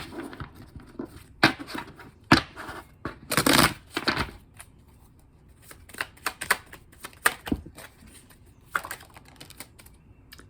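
A Rebel deck of cards being handled and shuffled: quick papery riffles and snapping flicks in irregular bursts, close and fairly quiet, with no voices.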